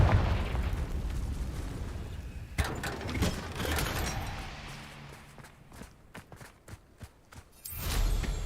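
A Confringo fire spell in Hogwarts Legacy: a loud, broad whooshing blast that rolls and crackles, then scattered bursts and footstep-like thuds as the noise fades before a swell at the end.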